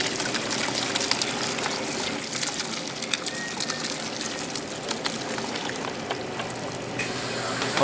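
Bone broth simmered for hours is strained, liquid pouring and splashing steadily through a strainer with a continuous rushing, gurgling wash of water close up.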